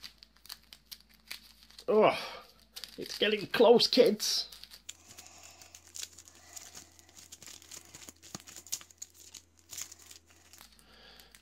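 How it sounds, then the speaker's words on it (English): A deck of Arkham Horror card game cards being shuffled, brief papery riffling bursts mixed with faint clicks, while a voice talks over the first part. "We'll give these a shuffle."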